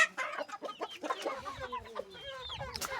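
Backyard chickens cluck and squawk in a busy, uneven chatter as they are let out of their coop, fairly close and moderately loud.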